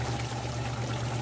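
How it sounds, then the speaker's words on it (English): Water pours steadily off the end of a new RP4 shaker table with no drain, a continuous close splashing trickle accompanied by a low steady machine hum. "somebody didn't put something on here to drain this water away. It just goes all over the place."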